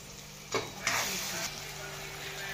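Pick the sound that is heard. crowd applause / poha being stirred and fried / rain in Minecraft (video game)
poha being stirred and fried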